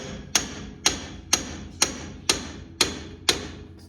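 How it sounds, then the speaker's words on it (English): A hammer strikes a pickle fork driven in during a front suspension teardown on a second-generation F-body car, seven sharp metallic bangs at an even, steady pace, loud and close with no talk. "Just bang the fork in a little bit."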